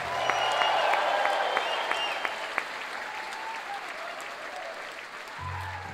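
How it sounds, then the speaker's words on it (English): Concert crowd applauding the band members at a show in New York, a dense, steady roar of clapping with a few whistles and cheers, holding loud throughout before easing slightly near the end. "I'd like you to give an equally big round of applause to my bandmates"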